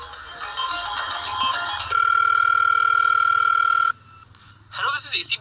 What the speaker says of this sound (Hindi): पहले मैं इस लड़की को फोन लगाता हूँ।